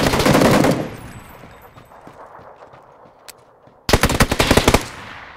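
Bursts of rapid automatic gunfire in PUBG crackle loudly at the start and again near the end, separated by a quieter stretch with a single faint shot.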